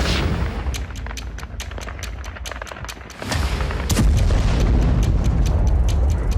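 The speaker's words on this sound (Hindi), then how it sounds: "ड्रोन के ओझल होते ही जोरदार धमाका होता है" A Ukrainian kamikaze drone strikes the Mozdok airfield, setting off a heavy, rumbling blast that swells midway into a sustained roar, with crackling secondary bursts over dense noise.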